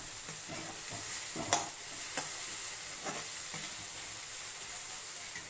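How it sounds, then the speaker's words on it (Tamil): Gentle sizzling hiss of capsicum frying in a pan, broken by a few soft scraping stirs. "இப்போ வந்து அது இன்னும் நல்லா ஃப்ரை ஆகட்டும்"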